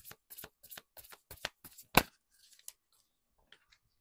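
A deck of tarot cards being shuffled close by, a quick run of crisp riffling snaps building to one loud burst, then a few faint scattered flicks.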